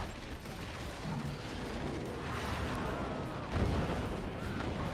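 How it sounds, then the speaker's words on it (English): Cannons fire over and over in the Forts RTS video game during a tournament match. The blasts come as a dense, rumbling barrage of distant booms that blur into a continuous roar, with one heavier thud near the end. "So many cannons."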